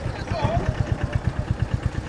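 An ice boat's engine at a busy fishing harbour idles with a steady low rapid thumping pulse, close and fairly loud, under faint background commotion.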